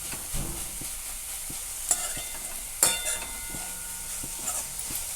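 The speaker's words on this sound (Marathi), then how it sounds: "ह्याच्यात मी काजू आणि बदामचे तुकडे करून घेतलेले ते ती पण टाकून घेते ती पण छान एक मिनिटभर असं मिक्स करून घेते" Pumpkin with cashew and almond pieces is stirred in ghee, giving a faint sizzle with occasional soft scrapes and a couple of sharper clinks, fairly quiet and with no voices.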